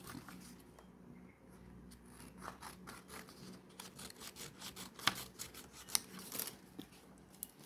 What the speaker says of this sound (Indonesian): kita gunting dulu.